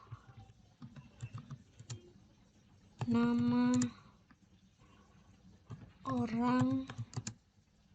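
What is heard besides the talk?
typing a print command on a computer keyboard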